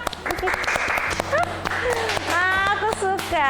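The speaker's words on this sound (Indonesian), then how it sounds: "Tepuk tangan dulu dong." Hand clapping from a small audience on an Indonesian talk show, a brief burst of applause mixed with sharp individual claps under lively, overlapping voices and laughter.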